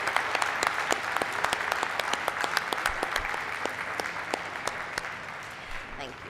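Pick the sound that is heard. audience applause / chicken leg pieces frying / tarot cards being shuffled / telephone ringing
audience applause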